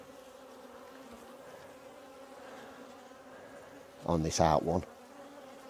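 Honey bees buzz around an opened hive in a steady, continuous hum of many insects, with one bee passing loud and close near the end and a few quiet spoken words.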